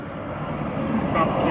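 A 50% scale Cub model airplane with a 3W170 Twin Spark engine drones steadily at moderate distance, its engine tone rising slightly over the brief moment, with speech faintly alongside.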